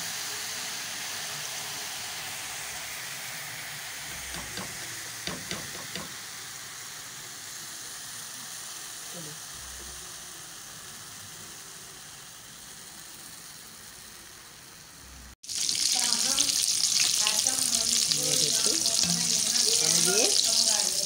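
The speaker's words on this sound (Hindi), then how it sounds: "मैं आपको ना डाल के दिखाती हूँ कि कैसे दाल के बल्ले कढ़ाई में डाले जाते हैं।" Chana dal bhalle frying in oil in a kadai over medium heat, a steady sizzling hiss that bursts much louder and brighter partway through as more batter drops into the hot oil, with a few faint clinks earlier.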